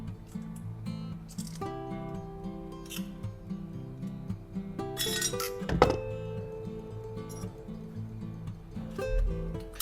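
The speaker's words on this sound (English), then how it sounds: "I use pliers to peel away the metal casing." Metal casing being peeled from a battery cell with pliers, heard as a series of close, sharp metallic clinks and scrapes with a louder snap partway through.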